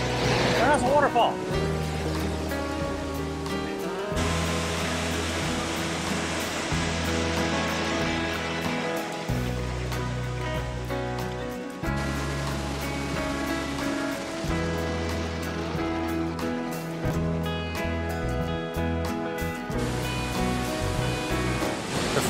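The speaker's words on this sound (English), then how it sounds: "waterfall." A waterfall at DeSoto State Park in Alabama's mountains gives a constant broad rush of falling water, heard steadily beneath rhythmic music for the whole stretch.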